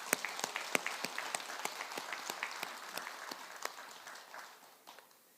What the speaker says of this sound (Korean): 우리 수고했다고 하는 큰 박수 한번 부탁합니다